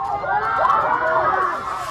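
A crowd at a Muslim wedding ceremony shouts and cheers together as the bride enters, a loud, sustained mass of raised voices.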